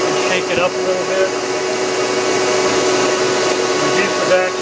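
A vacuum motor runs steadily in a milkweed seed separator, a loud, even whooshing drone with a faint tonal whine and occasional soft rattles, with no pauses.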